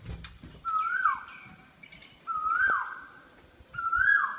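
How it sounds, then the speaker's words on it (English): A bird nicknamed the Oh Wow bird gives three clear, loud, sliding calls about every one and a half seconds, each a short rising then falling whistle, over a faint outdoor background. "This is called the Oh Wow bird."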